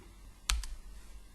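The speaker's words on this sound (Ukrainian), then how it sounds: "натискаєте латинську букву R на клавіатурі" Two quick key clicks on a computer keyboard, close and fairly crisp, pressed while drawing a wall in Archicad, with a faint low hum around them and no talking.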